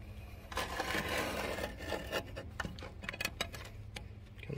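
Old grip tape being peeled and scraped off RV steps, with a sustained dry tearing rub followed by a run of short, close scratchy ticks and pulls.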